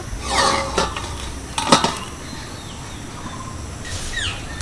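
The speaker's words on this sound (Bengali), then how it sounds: "এবার আমি ঢাকনাটা খুলে নেব" A metal lid lifted off a pot where a rice-flour snack has steamed for ten minutes, with clattering metallic clinks near the start and a second sharp clank midway, then quiet kitchen background with faint chirps.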